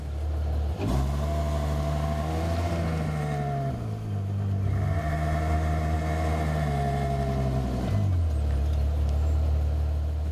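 Ferrari FF grand tourer pulling away, its engine loud and close, revving up through a gear change and climbing again in strong, smooth surges with no talk.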